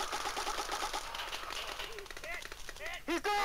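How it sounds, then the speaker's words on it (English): Rapid gunfire in a first-person shooter game, bursts of shots crackling over busy game noise and effects, loud and close throughout. "move towards him while shooting"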